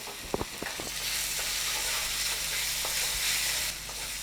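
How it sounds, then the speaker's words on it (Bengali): Masala frying in oil with dried chilli powder for a Bengali egg korma, stirred in the pan: a few sharp scrapes at the start, then a steady, close, loud sizzle that continues on its own. "এইভাবে আবারও কিছুক্ষণ নেড়ে নেব"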